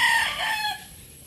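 A rooster-type fowl call rings out loudly at the start, then trails off into quieter clucking and faint background noise.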